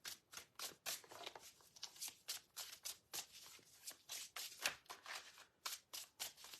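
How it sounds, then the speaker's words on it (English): Silky tarot cards are shuffled by hand in quick, rhythmic bursts of riffling and slapping, close and fairly soft, repeating steadily without speech. "These are silky cards, I always say. I do like how they shuffle."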